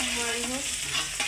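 Onions sizzle steadily in a hot pan while a spoon stirs them, a dense close frying hiss with no talking, as part of cooking a fenugreek leaf vegetable dish with cumin and green chillies.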